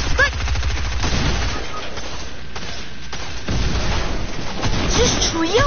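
Rapid automatic gunfire and blasts in a Fortnite Chapter 2 Season 8 match, loud close bursts of shots mixed with booms, with a player's voice speaking over the fight.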